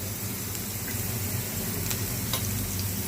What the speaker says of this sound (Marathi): त्या तव्यावर मी आता छानपैकी हे कांदा आणि खोबरं भाजून घेते